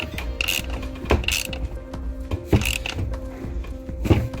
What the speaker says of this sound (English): we're going to go through the process of tightening them up